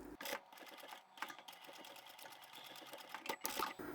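A sewing machine stitches the fabric of a small hanging phone pouch, running in a steady rapid mechanical chatter with brief pauses and restarts, close and fairly loud with no talking.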